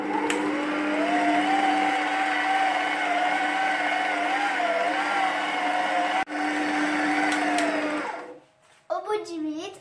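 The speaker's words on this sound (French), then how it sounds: "on va pétrir à vitesse 2 pendant 10 bonnes minutes" A stand mixer hums steadily and loudly on speed 2 while kneading brioche dough, then cuts out near the end and a voice speaks briefly.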